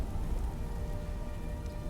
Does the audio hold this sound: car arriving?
no